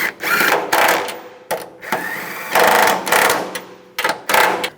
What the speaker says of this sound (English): Now tighten down the upper strut bolts.